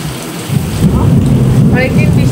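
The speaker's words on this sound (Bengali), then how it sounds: "এত জোরে বাজ পড়া মনে হয়।" Loud rain hisses steadily while a deep roll of thunder swells in and stays heavy throughout the short stretch of storm.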